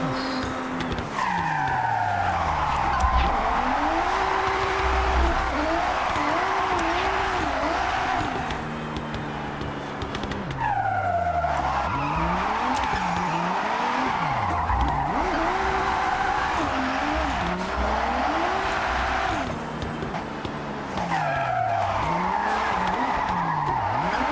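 A Ferrari drift car in the Forza Horizon 6 racing game skids and squeals its tires in long sweeping slides, the engine note rising and falling over and over throughout.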